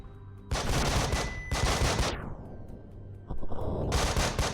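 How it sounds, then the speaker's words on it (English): A flashbang and bursts of gunfire in the tactical video game Breach and Clear, loud close blasts and rapid shots in two heavy clusters separated by a decaying ring, then another burst near the end. "Flashbang out."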